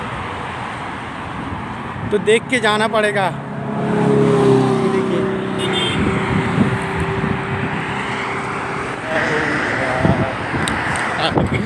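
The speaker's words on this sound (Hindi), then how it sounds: "देखो इतना गाड़ी है भाई, इतना कार है" Busy road traffic with many cars passing, a steady engine and tyre rumble that swells as vehicles go by, with someone talking over it.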